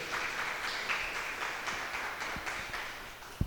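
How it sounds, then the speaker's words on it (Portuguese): A church congregation applauds, giving a fairly quiet, distant patter of clapping with a few sharper hand claps standing out near the end. "Você pode aplaudir a Jesus,"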